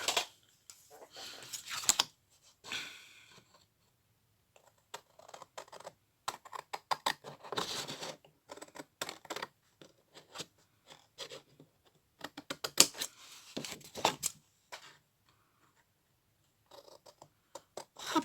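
Scissors snip through fabric in short bursts of crisp cuts, close and fairly loud, separated by quiet pauses and light handling noises while a small pouch is made, with no talking.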